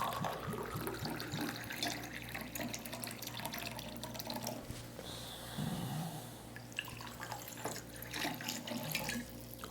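Water pours or runs from a tap in a steady, close trickle with fluctuating splashes and a brief change in tone midway, fairly soft overall.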